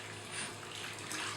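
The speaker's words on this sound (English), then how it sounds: "I was using some warm water and it's getting all the ink out." Warm water runs and splashes while ink is rinsed out of a screen-printing screen, a steady close-up gush of flowing water with no voices.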